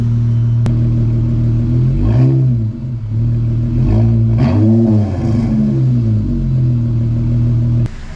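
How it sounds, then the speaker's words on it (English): A car's engine idles steadily and loud, broken by a couple of light, brief revs that rise and fall back to idle before settling again. "Give y'all a couple little baby revs and then jump right into it"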